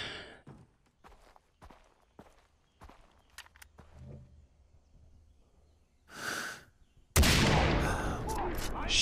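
Gunfire in the video game Far Cry 3: scattered sharp shots and clicks give way to a loud, sustained burst of heavy firing near the end.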